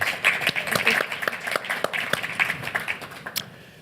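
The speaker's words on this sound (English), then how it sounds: "Applause." Audience applause welcoming Francesca Molinari, Chief HR Officer and SVP Human Capital at Magento Commerce, to a fireside chat: steady, fairly close clapping from a modest crowd, holding through and fading near the end.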